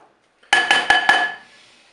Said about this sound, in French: J'ai déposé mon plat dans la cuve du Cookeo